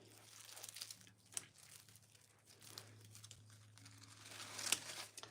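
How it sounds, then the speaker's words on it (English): Hydrangea flower stems are cut and handled, giving faint, close crinkling and crunching snips scattered irregularly over a quiet background, with a sharper snip near the end. "Okay, so I'm going to cut them all off and put them right here for now."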